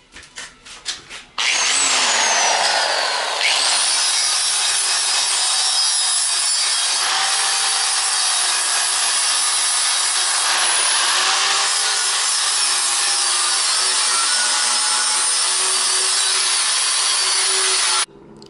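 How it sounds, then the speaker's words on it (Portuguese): Electric sander smoothing brass brazed onto steel with an oxy-acetylene torch, a loud steady abrasive whine that starts after a few brief bursts and runs unbroken for about sixteen seconds, with no talking. "agora eu vou passar a lixadeira para você ter uma ideia do tipo de acabamento que a gente consegue dar."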